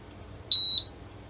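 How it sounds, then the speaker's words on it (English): A single short, pure electronic beep from the main board of an HP 34401A multimeter under repair, loud and clear against near silence. "I got a beep from the main board"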